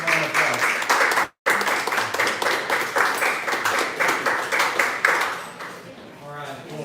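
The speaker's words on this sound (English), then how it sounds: "Let's give him a round of applause." An audience claps for a state representative coming up to speak, a lively burst of applause with clear individual claps, fading toward the end as the clapping thins out.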